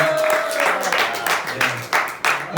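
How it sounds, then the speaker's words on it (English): Audience applause at a live comedy show in a cinema, a burst of steady clapping from a crowd mixed with speech over it. "please give a warm round of applause for Pierre Hoza"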